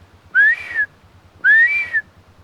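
Two clear rising-falling whistles from a man imitating a male blue duck call beside a clean bush stream, each about half a second long and close by, separated by a short pause.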